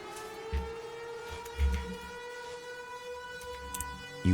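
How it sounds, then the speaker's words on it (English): An alarm siren triggered in a video game drones with a steady, sustained wailing tone, punctuated by a few low thuds, loud and continuous, with no speech over it. "They triggered the siren, and a horde of root walkers is coming for you."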